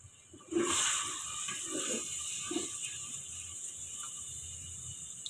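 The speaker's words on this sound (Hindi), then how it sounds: "अब इसमें पानी डाल देंगे।" Water pours into a pot of soaked mash dal (urad lentils) in a kitchen, starting as a sudden close splash that settles into a steady, softer stream.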